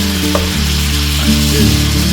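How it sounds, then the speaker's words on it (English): Steady, loud sizzling of chicken frying in a steel pot, Caribbean style, a continuous crackle with low hum underneath and no talking. "Chicken frying by the steel."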